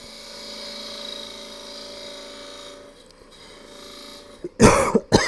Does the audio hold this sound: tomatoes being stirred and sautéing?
no